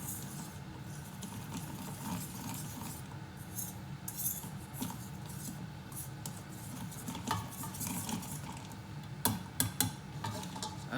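A small whisk beats fish-and-chips batter in a bowl, giving quiet, rapid ticking clinks against the sides that grow a little sharper near the end, with no talking.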